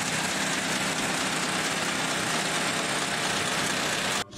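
Engine of a handcrafted helicopter runs steadily and loudly for about four seconds, a rough, buzzing drone like a motorbike idling, cutting off abruptly at the end.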